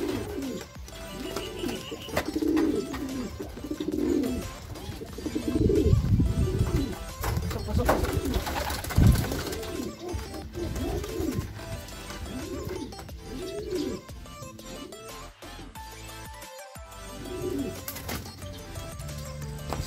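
Racing pigeons at a loft coo repeatedly in low, rolling calls, close by, with some scuffling and clatter in the background.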